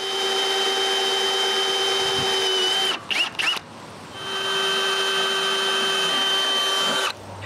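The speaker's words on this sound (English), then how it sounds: "we need to drill new holes. So I mark and drill them." A power drill whines steadily at high speed, drilling holes for trailer fenders, stops briefly with a few short bursts, then runs again in another long continuous spin.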